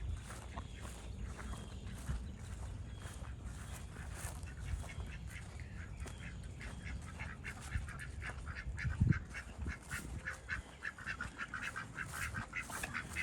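Ducks quack intermittently against a steady outdoor background, the calls moderately close and rough.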